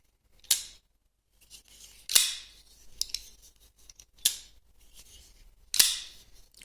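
A QSP Copperhead folding knife opens and closes, giving five sharp metallic clicks spaced a second or so apart, close up against near silence.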